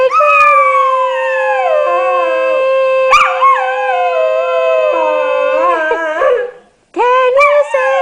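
Maggie the dog howls in a long, wavering song with sliding pitch, near and loud, a brief pause near the end before the howl starts again.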